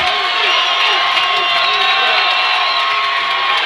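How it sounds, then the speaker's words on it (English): Loud crowd cheering and whooping at a high school football game, the student body on their feet by the track, with shouts rising over a steady roar while a commentator talks over it. "Crowd getting loud. Student body up on their feet down there on the track."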